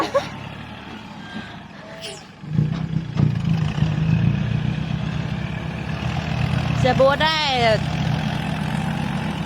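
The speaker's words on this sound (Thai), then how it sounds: "อันนี้เป็นรถไถของเจ้าของฟาร์มนะคะ" A farm owner's tractor runs with a steady low engine rumble. Voices talk over it, and a brief warbling tone rises near the end.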